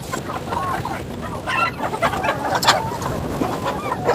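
Hens cluck and squawk close by in a farmyard flock, a busy, irregular chatter with flurries of sharper calls rising among the birds.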